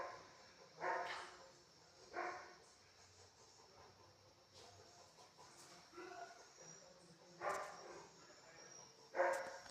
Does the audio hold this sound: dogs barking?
yes